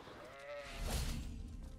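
Sheep in Hogwarts Legacy give a short bleat, followed by a louder broadband rush of game ambience; the sound is fairly quiet overall, with no talk.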